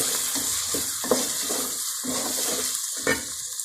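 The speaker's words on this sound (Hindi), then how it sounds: "अब मैं मसाले डालने लगी तो साथ ही दही डालती हूँ।" Yogurt going into keema mince frying in a pan for biryani, with a steady loud sizzle broken by several scraping stirs and soft wet thumps, no voices.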